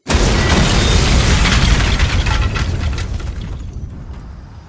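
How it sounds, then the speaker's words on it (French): A loud explosion bursts out suddenly, a heavy boom followed by a rumbling roar that slowly fades away. "la maison s'illuminer de l'intérieur avant qu'une explosion se fasse"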